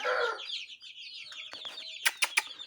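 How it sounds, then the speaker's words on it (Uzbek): Young chicks in a brooder box chirp close by in a rapid string of high, sharp peeps. Near the end come three louder, brief bursts. "Ana jo'jalar."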